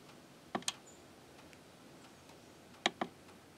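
Buttons pressed on an Eco-Worthy solar charge controller, two quick pairs of sharp plastic clicks spaced about two seconds apart against quiet room noise.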